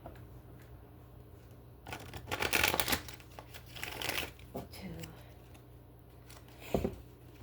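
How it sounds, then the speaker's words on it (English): Tarot cards shuffled by hand in a few quick bursts of riffling and flicking, close and fairly quiet, with soft talking in the background. "3 shuffles, get to it."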